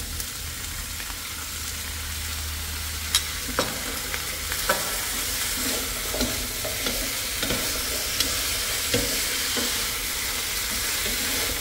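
Vegetarian glass noodles stir-fry in a pan with a constant sizzle and hiss. Close, scraping stirring strokes tap and clatter irregularly over the frying, with no voices.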